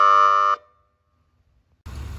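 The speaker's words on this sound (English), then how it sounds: "hit that air horn" A loud, brief air horn blast from a 2021 Ford F250 fire rescue squad truck sounds for about half a second, then silence, before a rough rumbling noise starts up.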